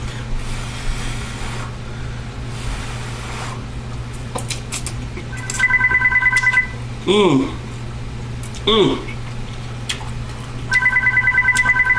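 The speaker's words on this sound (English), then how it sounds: "My phone is ringing, but I ain't gonna answer it." A mobile phone rings indoors during a homemade ramen meal, sounding as two short bursts of trilling ringtone separated by a pause, moderately loud over a steady background hum, with a voice talking in between.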